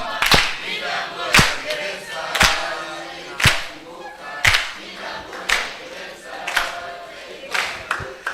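A youth conference audience claps in sharp, loud bursts spaced about a second apart, each burst a crisp broadband crack over a murmuring crowd, keeping a steady rhythmic beat as if clapping along.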